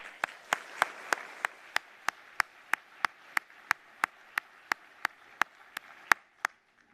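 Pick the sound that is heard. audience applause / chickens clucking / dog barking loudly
audience applause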